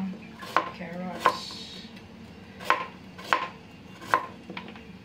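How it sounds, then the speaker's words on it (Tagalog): A knife chops carrots into cubes for leftover fried rice, landing five sharp, distinct strikes on a cutting board at uneven intervals, close and clear, with faint background noise between them. "I-cube natin yung carrots."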